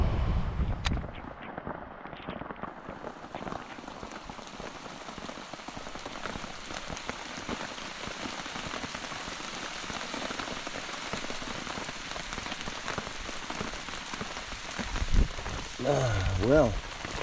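Steady rain patters on a surface on a tropical island beach in northern Australia, a dense hiss of drops with a brief low rumble near the end.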